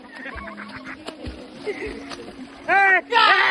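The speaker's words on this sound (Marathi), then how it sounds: "पाणी सगळं उडालं बाहेर" Water splashes and splatters out of a pool at a farmhouse in Uran amid lively shouting voices, ending in two loud, bright bursts of cries.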